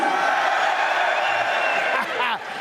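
A big arena crowd at the UFC 304 weigh-in in Manchester roars and cheers loudly and steadily, a dense wall of whoops and shouts that swells and then dips slightly near the end.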